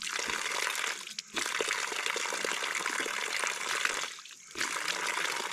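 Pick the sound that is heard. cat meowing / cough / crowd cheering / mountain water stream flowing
mountain water stream flowing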